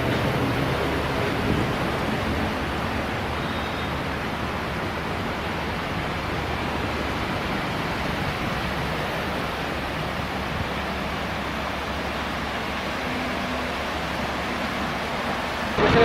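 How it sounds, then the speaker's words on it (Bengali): A small waterfall near Maithon Dam flows in a steady, dense rush of water that holds constant and fairly loud throughout, with no talking. "একটা ছোট্ট ঝর্ণা রয়েছে"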